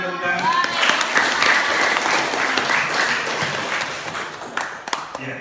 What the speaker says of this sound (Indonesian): Oke, ya, berikan tepuk tangan.